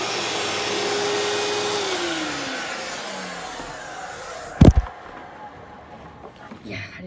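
An upright vacuum cleaner runs over messed-up carpet, a loud, steady close whir that slowly fades and winds down, broken by a sharp thump near the end.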